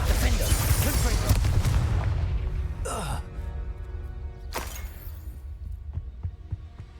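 Spell blasts from Hogwarts Legacy boom and whoosh, a dense rumbling impact at first that fades, then two sharp bright bursts of magic, with spoken incantations in the background.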